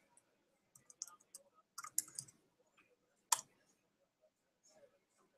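Light keys clicking on a computer keyboard in short, uneven bursts, close and fairly quiet, with a sharper lone keystroke partway through and brief pauses between the runs of taps.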